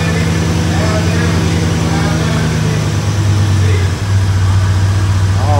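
An IROC-Z28 Camaro V8 idles steadily after a cold start, a deep continuous rumble close by that shifts to a lower, smoother idle partway through, with a brief dip before settling.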